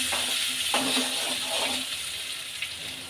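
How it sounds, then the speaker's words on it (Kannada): Ginger sizzles and crackles in hot oil in a pan with cumin seeds, a steady close frying hiss with a few brief spatters, for a simple potato and cumin stir-fry made without onion or garlic. "ಶುಂಠಿ ಹಾಕ್ಕೊಳ್ಳೋಣ. ಫ್ರೈ ಮಾಡ್ಕೊಳ್ಳೋಣ."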